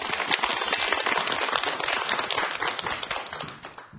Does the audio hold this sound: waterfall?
no